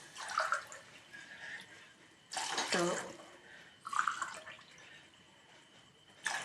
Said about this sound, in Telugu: 2 గ్లాసుల బియ్యానికి 4 గ్లాసుల నీళ్ళు పోసుకుందాం